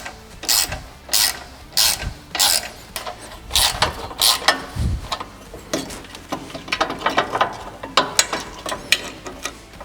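Ratchet with a 15 mm socket removing the skid plate mounts on a Ford Bronco, a close series of sharp clicking strokes in a steady back-and-forth rhythm that speeds up into quicker, lighter clicks.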